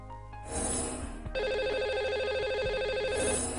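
A telephone line rings steadily as a call is placed to a studio caller, a loud electronic trilling ring repeating over about three seconds with a short tonal shift early on.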